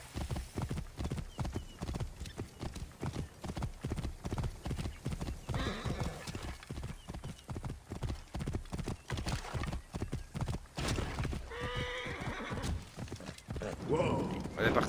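Horse hooves clip-clop steadily and loudly in Assassin's Creed Origins, a dense rhythmic gallop running the whole stretch, with a whinny and a voice talking over it near the end.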